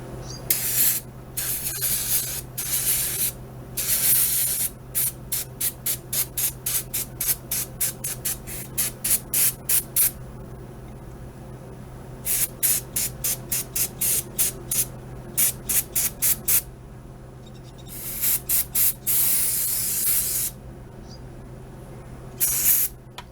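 Cleaner sprayed onto the throttle body of a 2005 Chevy Trailblazer with a crank-but-no-start fault: loud, close aerosol bursts, some long hisses and many quick rapid pulses, with pauses between.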